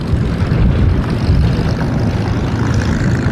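Two-seat Spitfire aircraft engine at an air museum, a steady loud broadband propeller-engine roar that holds constant throughout with no talk.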